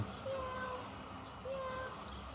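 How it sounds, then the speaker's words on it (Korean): A black cat meows twice, softly and at a distance, over a steady background hum. "저기 그 까만 고양이가 있네."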